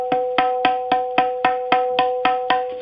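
Eleven evenly spaced ringing tabla Na strokes with a thin, high, bell-like pitch, played alone at a steady moderate pace.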